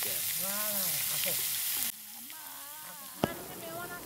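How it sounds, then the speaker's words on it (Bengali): Fish fry in hot oil with a continuous crackling sizzle and bubbling. The sizzle drops quieter partway through, and a sharp clack of a utensil follows soon after. "এখানে দেখেন মাছগুলো কীভাবে ভাজা হচ্ছে"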